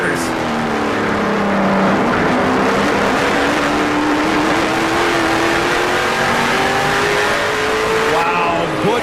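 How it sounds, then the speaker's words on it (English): A race car engine whines loudly through a corner at a NASCAR Camping World Truck Series race, pitch dipping and rising as it decelerates and accelerates, with a faint announcer voice underneath. "you heard that thing go through the corner"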